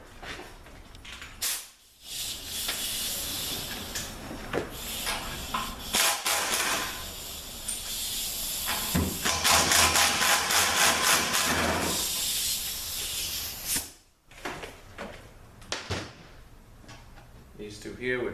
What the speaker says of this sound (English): let's get the old air gun out